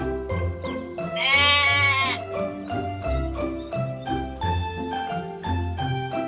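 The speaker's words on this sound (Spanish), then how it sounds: "Una oveja," A sheep bleats in a wavering, quavering call over bright, jingly children's music that plays throughout, the bleat rising clearly above the tune for about a second.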